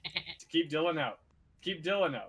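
Goats in an Age of Empires-style video game bleat in short wavering cries twice, overlapping with people talking.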